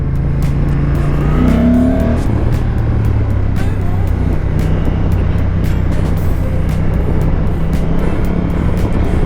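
Honda NT 1100 2025 motorcycle engine running while riding, a loud steady droning rumble with rising and falling rev tones and constant wind noise throughout.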